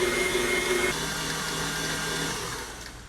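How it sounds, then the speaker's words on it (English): An electric mixer whirs steadily while beating a batch of icing, a loud continuous motor drone that dips slightly in pitch partway through and fades a little toward the end. "I typically let my mixer run anywhere from 3 to 5 minutes to make sure it's good and mixed"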